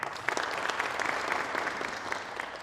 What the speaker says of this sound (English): So let's clap for us.